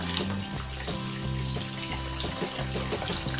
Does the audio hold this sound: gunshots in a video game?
no